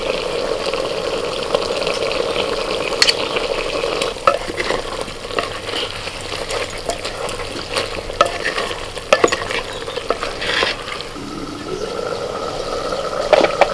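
Chicken curry with ground pepper, cumin and dried chilli paste is stirred in a clay pot, a steady scraping and sizzling that runs continuously without any voices.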